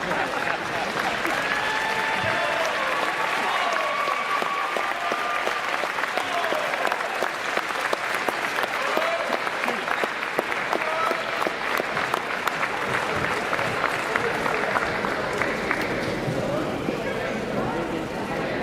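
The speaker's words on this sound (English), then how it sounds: "one more round of applause for our graduating seniors" Crowd applauding at a college men's basketball game, Saint Martin's versus Central Washington, honoring graduating seniors: dense, steady clapping lasting the whole stretch, loud and unbroken, with faint voices underneath.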